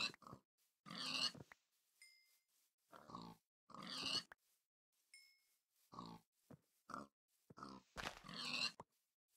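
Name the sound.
pigs grunting in Minecraft video game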